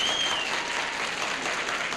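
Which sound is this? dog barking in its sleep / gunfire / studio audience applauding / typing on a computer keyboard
studio audience applauding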